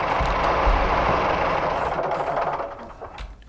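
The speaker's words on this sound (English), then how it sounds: "the engine sound doesn't sound too bad from the exterior" Class 142 diesel railbus engine idling from outside in Train Simulator Classic, a steady low rumble with broad mid-range noise that holds loud and even, then eases slightly toward the end.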